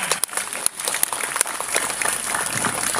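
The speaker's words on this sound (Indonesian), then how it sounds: "Tepuk tangan." Applause fills the room after a pledge ceremony for a regional journalists' association in Blitar, a short, even burst of many hands clapping, fairly loud, with a few sharper claps near the start.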